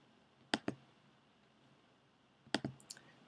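A computer mouse clicks while working in Adobe Flash CS5, two quick pairs of sharp, close clicks about two seconds apart against a quiet background.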